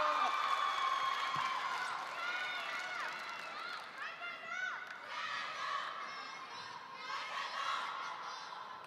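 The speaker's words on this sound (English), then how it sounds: "We got battle chanting in the crowds right now" Crowd noise fills the arena at a Ma Long versus Fan Zhendong men's singles final table tennis match, the 2017 Qatar Open, with rhythmic chanting and cheers from spectators holding steady and loud throughout, including shrill young voices.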